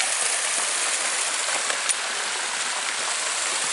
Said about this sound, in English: Not too bad of a place for that, a little waterfall actually back in there